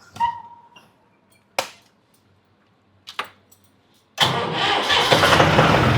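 A tractor engine cranks in a few short bursts, then catches and roars into a steady, loud running idle, in Udesian village, Jalandhar district.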